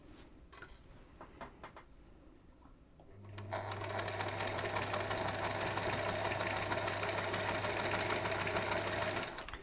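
Sewing machine stitching fabric for a cowboy shirt, starting after a few seconds of quiet handling and then running steadily and loudly with a constant hum until it stops near the end.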